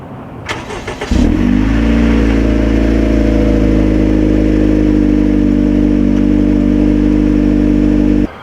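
A Honda Accord with a Thermal R&D 2.5-inch exhaust is started semi-cold: a brief cranking whir, then the engine catches with a loud burst and settles into a steady, deep, raspy idle, close by with no talk.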